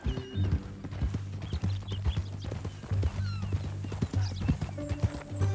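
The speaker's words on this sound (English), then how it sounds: "That a new horse?" Rhythmic clip-clop of horse hooves close by in Red Dead Redemption, with a horse whinnying and snorting over the steps, plus faint background music.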